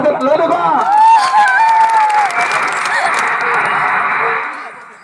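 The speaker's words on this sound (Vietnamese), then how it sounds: "xin cảm ơn cho một tràng pháo tay thật lớn được không ạ?" A wedding audience applauds and cheers loudly and steadily, with crowd voices mixed in. The sound fades out toward the end.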